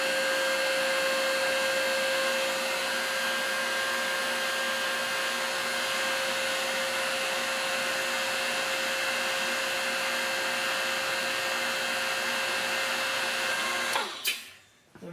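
Compressed air blasts steadily to clear metal chips from a broach in a welding and machining shop, a loud continuous hiss that cuts off abruptly near the end.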